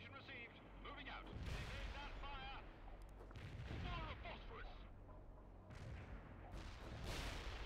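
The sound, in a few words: gunfire in the video game World in Conflict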